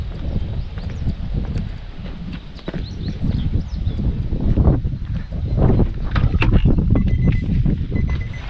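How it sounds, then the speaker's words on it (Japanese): Cool wind blows across the Hiraodai parking lot in Japan, a continuous rough buffeting rush over the microphone with gusty swells and faint scattered background sounds. "標高が少し高いのか涼しい風が吹いてます。"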